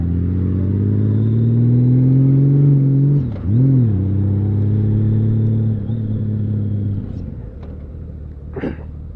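A smooth six-cylinder Honda Valkyrie motorcycle engine idles close by with a deep steady hum, briefly blipping the throttle once before settling and fading slightly.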